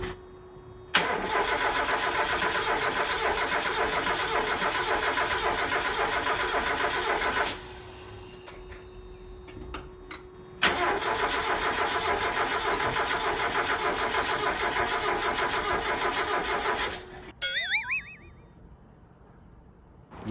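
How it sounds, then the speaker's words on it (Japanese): A Mazda NA Roadster engine, converted to an OER racing 45mm carburetor, cranks steadily for several seconds without catching, pauses, then cranks again for a long stretch before cutting out; loud and close. "それではエンジンかけます。"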